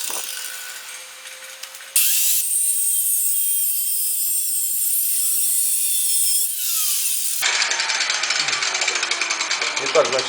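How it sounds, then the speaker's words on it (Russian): Wooden workpieces are cut at an angle on a saw bench while building a stove-fireplace, with a loud, steady power-saw whine running for several seconds, then shifting into a rougher, buzzing cut near the end. "сейчас мы напилим все заготовки под таким углом"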